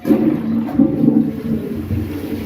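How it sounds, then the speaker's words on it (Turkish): A toilet cistern is flushed close to the microphone, giving a loud steady rush and gurgle of water that keeps going throughout with slight surges, no voices. "Sifonu çektikten sonra"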